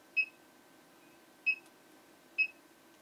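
An ITech 8512A+ electronic load's buzzer gives three short beeps spaced about a second apart, crisp and moderately loud over a faint steady hum.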